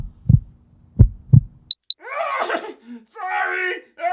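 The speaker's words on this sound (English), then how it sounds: "I have a new heartbeat ringtone on my phone" A heartbeat ringtone on a phone, staged in a puppet performance of Tell Tale Heart, gives three deep, thudding beats. Two short high beeps follow, then dramatic voices speak.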